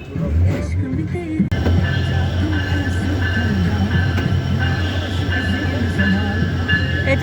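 A train rumbles past nearby, loud and continuous, with a steady low roar and metallic wheel tones, while people talk faintly underneath.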